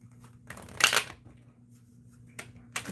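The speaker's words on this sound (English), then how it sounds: "I'll give an even better shuffle for B." Cards riffled and shuffled in short crisp bursts, a louder flurry early on and two quick ones near the end, close by with a faint low hum underneath.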